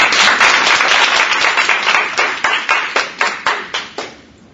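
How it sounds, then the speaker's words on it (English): An audience of children and adults gives a round of applause for a young girl who has just recited Langston Hughes, a dense burst of clapping that thins into a few distinct, spaced final claps before fading out. "Let's give her a round of applause."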